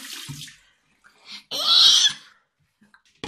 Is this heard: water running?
yes